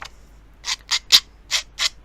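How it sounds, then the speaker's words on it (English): A nail file rubs along the edges of a paper card in five or six short, raspy strokes, close and fairly quiet. "I am going to just take a nail file because there are some little pips"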